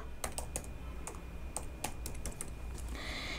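Typing on a computer keyboard, a run of irregular, close key clicks with short pauses in between over quiet room noise.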